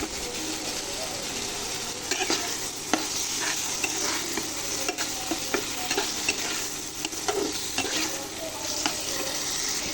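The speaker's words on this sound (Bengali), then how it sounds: "এবার আমি সিমের বিচিগুলো দিয়ে দিলাম।" Hyacinth bean seeds hit a pan of spiced masala, frying and sizzling steadily while a utensil scrapes and stirs in irregular clicks, close and continuous, with no voices.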